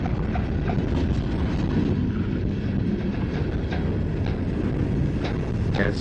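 A long freight train passes on a Norfolk Southern railway in the evening, a loud, steady rumble with rhythmic clacking of wagons over rail joints close by.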